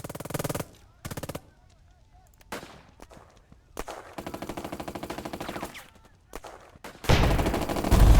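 Bursts of rapid gunfire from the WWII tactics game Burden of Command, several loud automatic volleys separated by short pauses, ending in a sustained heavy barrage.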